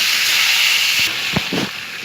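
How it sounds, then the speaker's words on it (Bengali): Marinated chicken browning in hot oil makes a loud, continuous sizzle, with a few soft utensil knocks toward the end. "এবার সেই তেলের মধ্যেই আমি এই ম্যারিনেট করা চিকেনটাকে হালকা ব্রাউনে ভাজছি"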